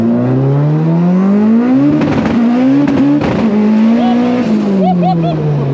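A fast car accelerating hard on a ride-along, engine note climbing through the gears with shifts and a loud, close roar; excited passengers shout and talk over it.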